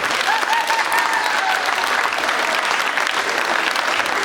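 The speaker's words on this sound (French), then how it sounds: "j'aimerais une salve d'acclamation" Audience applause at a school peace-ambassador ceremony, a dense steady wash of many hands clapping for about four seconds, with a brief faint whistle-like tone early on and no speech over it.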